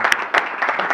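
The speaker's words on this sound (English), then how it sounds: "let's give him a big round of applause" Loud, dense applause from a crowd, a steady wash of clapping with a few sharper bursts standing out.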